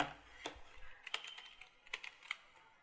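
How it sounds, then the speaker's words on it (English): Quiet, sparse typing on a computer keyboard: a handful of light, irregular key clicks spread over a few seconds, up close in an otherwise silent room. "Now type your signature or name, whatever you want, or the title"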